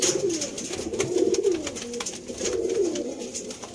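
Pigeons coo in repeated low rolling phrases, close and clear, alongside a white-eyed male pigeon with dense tail feathers, offered for sale in Sialkot, with faint bird chatter behind.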